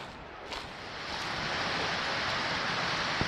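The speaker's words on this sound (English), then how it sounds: "we're just getting a view of a waterfall in front of us" A waterfall on a mountain trail sends out a steady broadband rush of falling water that builds slightly and then holds even and moderately loud, with no voices.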